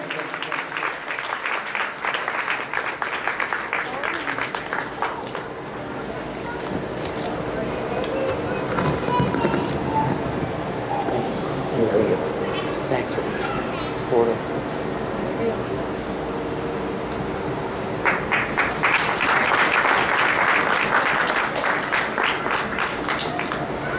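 An audience at an award ceremony for a satsang grand finale bursts into loud applause, which fades under a stretch of talk in the middle and then swells again with sustained clapping.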